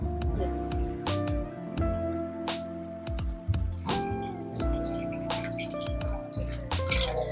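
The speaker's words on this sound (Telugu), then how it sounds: "పోసుకుని చింతపండు పులుసు పోసుకుంటున్నాను." Tamarind extract is poured into a simmering bottle gourd stew, giving wet dripping and splashing with squishy liquid sounds that continue steadily throughout.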